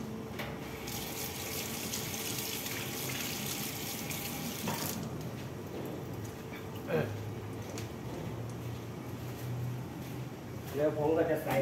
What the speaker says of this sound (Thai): ดี๋ยวผมล้างมือก่อน